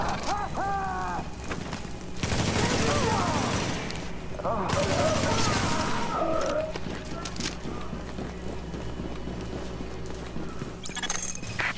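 Sustained burst of gunfire in The Division, set in a Manhattan subway morgue, loud and dense for several seconds in the middle, with game sounds and voice-like tones before and after.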